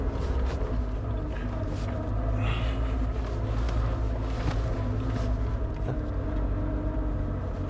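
A 2019 Suzuki Jimny SZ5 crawls along an off-road green lane, its engine a steady, close low drone with bumps and knocks from the rough ground throughout.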